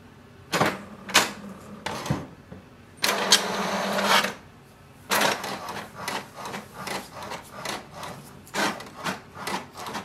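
HP DeskJet 2723e inkjet printer printing a page: a series of mechanical whirs, rattles and carriage shuttling bursts, loud and close, with short pauses and a faster rhythmic stretch toward the end, no talking.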